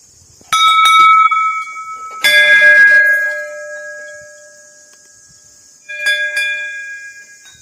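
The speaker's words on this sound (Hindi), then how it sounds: "मैंने यहाँ पर मंदिर में ये घंटी बजाई है" A metal temple bell is struck by hand, ringing out in three loud, clear strikes with long shimmering decays between them, close and alone.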